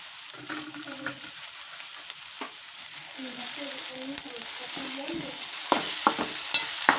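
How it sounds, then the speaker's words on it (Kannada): Tomato and masala stir-fried in a pan for a snack made from leftover chapati, a continuous close sizzle broken by repeated scraping strokes and sharp clinks of a spatula against the pan. "ಈಗ ಎಲ್ಲ ಫ್ರೈ ಆಗದೈತೆ"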